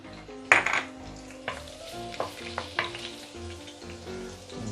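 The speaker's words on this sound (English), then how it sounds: "first of all, we will saute the shallot." Shallots sautéing for sambal in a pan, a steady close sizzle with a few sharp scraping and clinking strokes of stirring in the first seconds, no talk.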